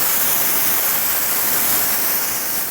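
Steady spray of water rinsing a BMW X5 wheel, a continuous close hiss with no break and no voices.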